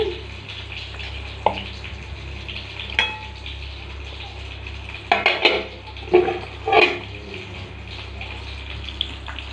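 Pieces of katla fish fry in hot oil in a home kitchen, a steady soft sizzle with occasional louder crackles and utensil clatter. No one speaks.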